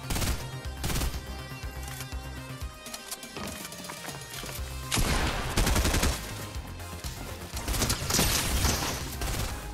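Rapid bursts of gunfire in the Fortnite video game, dense repeated shots layered over game music and effects, loud and continuous across the clip.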